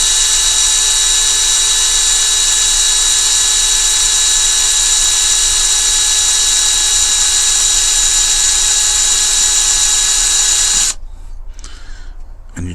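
A small high-pitched drill whines steadily and loudly for about eleven seconds, drilling a die-cast model car headlight, then cuts off abruptly, leaving faint handling noises.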